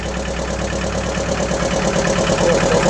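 Close, loud motor boat engine idling on the reservoir at Maithon Dam, a continuous rumbling, knocking throb that stays steady for the whole stretch, with no talking.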